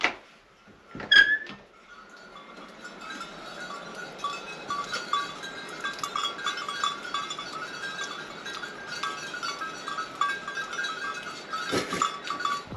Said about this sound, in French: Les gars, il y a des moutons dehors.